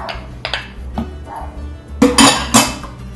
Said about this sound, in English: I'm going to put my peas in there.